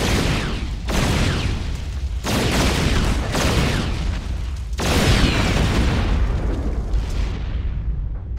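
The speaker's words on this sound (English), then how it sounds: "It can actually fire on the move, and it uses his powerful railguns to batter through the Thor's thick armor." Railgun fire from a Terran unit pounding a heavily armored Thor in StarCraft II, a series of loud booming blasts every second or so, each rolling into a roaring decay.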